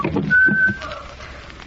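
A single thin, sinister whistle rises briefly amid rustling and low voices in a radio murder drama, the killer's tune fairly close and soon fading.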